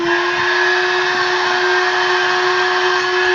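Vehemo 12V car vacuum cleaner running on a leisure battery over crumbs on a carpet, giving a loud, steady whine with a strong hiss of suction throughout, close and unbroken.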